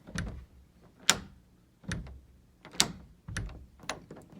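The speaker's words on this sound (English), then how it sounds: "You can hear the lock relatching, that it's not secure." A pre-hung interior door that has been installed incorrectly is pulled against its lock, which relatches with sharp, quiet clicks and knocks roughly every second, close up and isolated.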